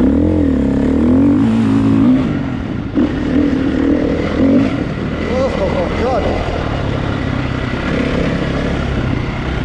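A KTM 350 EXC-F dirt bike engine revs loud and close at Appin, its pitch rising and falling through throttle blips, with a voice talking over it.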